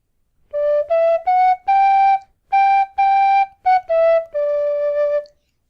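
A tin whistle plays a short tune of clear, bright sustained notes in quick phrases with brief gaps, loud and close, solo without accompaniment.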